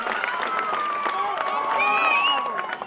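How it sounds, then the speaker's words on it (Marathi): Crowd at a local cricket league final cheers and claps before the last ball, a loud continuous roar with whistles and shouts, while a commentator talks over it. "एकदा जोरदार टाळ्या वाजवून या दोन्ही संघांना आपण शुभेच्छा देऊया या शेवटच्या बॉल साठी"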